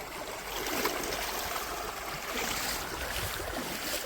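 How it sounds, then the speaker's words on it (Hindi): Steady rushing flow of a river, close and continuous, broadband water noise without voices on a cloudy day outdoors. "तो ये है हमारी नदी और कल कल बहती हुई।"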